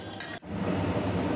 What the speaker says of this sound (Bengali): পালং শাকের পেস্টটা আমি দিয়ে দিয়েছি।